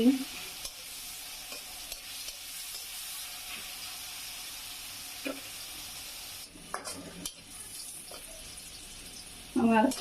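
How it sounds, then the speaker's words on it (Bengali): Onions frying in a pan with salt, a soft steady sizzle running underneath intermittent stirring and scraping noises, quiet and close. "পেঁয়াজটা ভাজা হয়ে গেছে"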